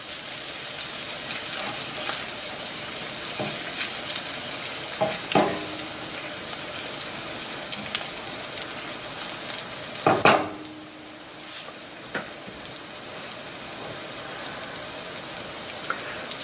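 Drained pasta stirred into a sizzling fresh garden herb mixture in a pan, a steady crackling fry with occasional utensil knocks and scrapes, one louder clatter midway.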